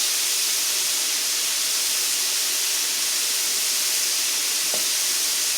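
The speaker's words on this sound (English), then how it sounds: "I'm yelling to get over the sound of the sizzle." Ground beef sizzles as it fries spread out in a pan, a loud, dense, steady hiss filling the whole stretch with no voices.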